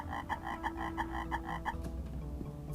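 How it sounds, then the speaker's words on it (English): A little frog in the puzzle game Imogen croaks in a quick series of about eight evenly spaced, nasal chirps over a steady ambient hum, followed by a quieter tail of game sounds. "the frog likes to make noise"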